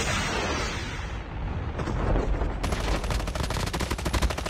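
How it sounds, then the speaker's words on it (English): AK-47 gunfire in the video game Call of Duty Mobile, loud rapid automatic bursts, continuous and close, with the rattle of shots growing denser toward the end. "AK-47 is one of the best guns in the history of Call of Duty Mobile."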